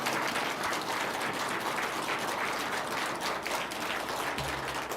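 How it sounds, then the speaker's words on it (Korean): A church congregation applauds together in steady, dense clapping that fills the full length of the moment, with no speech on top. "격려 축복의 박수 한번 합시다"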